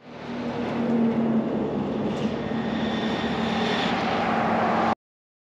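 A custom KHS Winslow e-bike with a CYC X1 Pro Gen 3 72v 3500w mid drive runs at top speed. A steady, loud rush of wind mixes with a thin motor whine, then stops abruptly.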